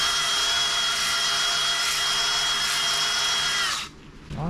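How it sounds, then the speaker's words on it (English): A 320 grit ball hone spins in a drill at about 500 RPM while rebuilding an LS 6.0 engine, a loud, steady whirring whine that cuts off near the end and winds down. "I bought a 320 grit ball hone, just nothing real abrasive."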